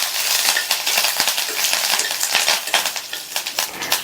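Mustard seeds splutter and pop in hot oil for a rasam tempering, giving a dense run of sharp crackles over steady sizzling, close and fairly loud with no talking.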